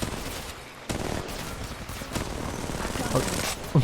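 Rapid gunfire from Apex Legends Mobile: sharp repeated shots in quick bursts, moderately loud, mixed with game ambience and someone talking over the shooting.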